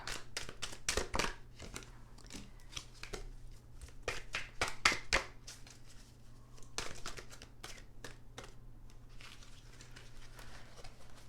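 Tarot cards being shuffled by hand, a run of soft riffling and slapping bursts with quieter papery rustles between them, close and with no talking.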